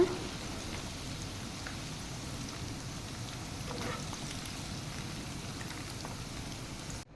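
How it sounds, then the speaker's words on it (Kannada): Chicken pieces frying in oil in a pan for chilli chicken: a steady, even crackling sizzle, fairly soft and continuous, with no talk over it, cutting off at the very end. "ಮತ್ತೊಂದು ಸೈಡ್ ಕೂಡ ಚೆನ್ನಾಗಿ ಫ್ರೈ ಮಾಡ್ಕೊಳ್ಳೋಣ"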